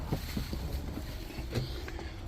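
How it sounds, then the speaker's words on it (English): Autumn wind gusts buffet the microphone with low rumbling thumps, while faint rustling and water-like noise fill the background. "It's been so windy the past few days."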